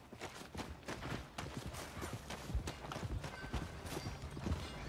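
A horse's hooves clip-clop in the video game Red Dead Redemption 2, quiet repeated hoof falls with faint creaks of tack and footsteps in the background.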